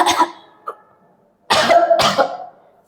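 A person gives a deliberate demonstration cough for speech therapy practice of the k sound, with a short cough, a faint catch, then two firm close coughs alone in a quiet room.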